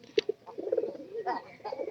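Pigeons in a wooden loft coo softly in short burbling phrases, faint and close, with a light tap near the start and no talking.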